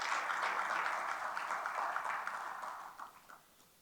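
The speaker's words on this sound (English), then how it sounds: "I think this kind of the contribution by our members deserve a big round of applause for Rajiv Agarwal." Audience applause for Rajiv Agarwal, a steady wash of clapping from a modest crowd at moderate distance that fades and breaks into a few scattered claps near the end.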